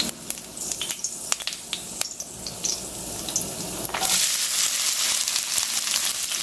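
Fennel seeds, curry leaves and finely chopped onion sauté in hot oil for South Indian cooking. Scattered crackles and pops give way to a louder, continuous sizzle.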